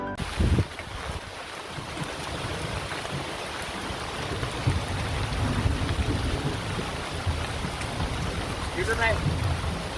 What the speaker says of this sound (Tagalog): lumalakas na yung ulan